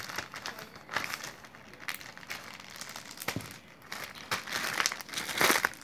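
A plastic bag from a slime package crinkles and rustles close up in irregular bursts, with several louder crunchy handling peaks as it is squeezed and pressed.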